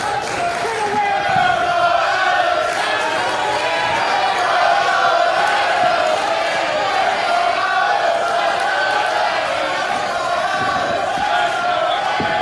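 A packed crowd at the 2300 Arena roars through a wrestling match, a sustained, loud wall of yelling and cheering that holds steady without pause for over twelve seconds.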